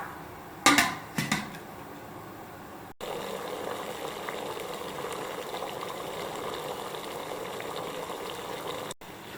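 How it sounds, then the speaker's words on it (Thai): A couple of brief knocks, then a steady hiss and low bubbling of boiling water with steam for steaming Thai sago coconut dessert, fairly soft and continuous. "น้ำเดือดแล้วนะคะเราก็นำขนมมานึ่งค่ะ"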